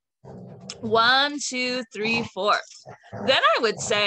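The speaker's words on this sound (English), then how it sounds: "Sorry about my dogs." Pet dogs playing indoors: whimpers, yips and short vocal bursts rise and fall near the microphone, overlapping a person speaking through most of the clip.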